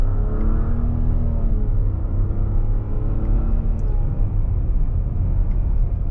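2025 Nissan Rogue Rock Creek with a CVT, downshifting on the wheel paddles in sport mode, a low engine rumble whose pitch steps and climbs gradually, heard from inside the cabin.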